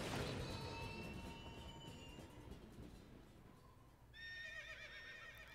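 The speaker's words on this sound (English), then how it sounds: "Comes the horse again." A horse in the video game Princess Peach Showtime lets out a loud, close whinny, followed by steady hoof clip-clops over a busy game soundscape with music and a train-like rumble.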